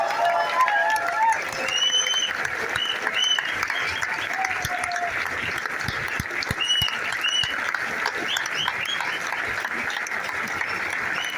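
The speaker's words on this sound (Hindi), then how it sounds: "लाउडली जोरदार तालियां जोरदार" A crowd at a business-plan meeting in Thane breaks into loud, continuous applause that stays thick and even throughout, with scattered voices and calls rising over the clapping.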